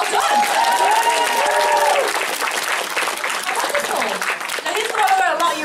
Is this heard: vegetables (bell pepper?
no